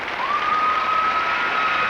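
Arena crowd applause follows a pairs free skate at the 2000 World Championships in Nice, a dense, steady wash of clapping with a thin sustained whistle-like tone running through it.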